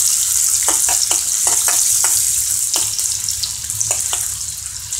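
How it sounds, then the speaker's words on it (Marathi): Onion sizzles loudly in hot oil, a dense frying hiss punctuated by a run of sharp spatula scrapes and taps as it is stirred, close-up and uninterrupted by voices. "आपण ह्याच्यामध्ये सर्वात प्रथम कांदा टाकूया. कांदा आपण एकदम लालसर गुलाबीसर परतून घ्यायचा आहे."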